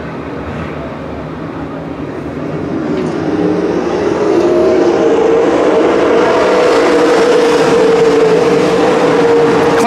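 Wingless sprint cars accelerate on a dirt speedway restart, and their engines swell from a distant rumble into a loud, sustained roar that builds and then holds steady.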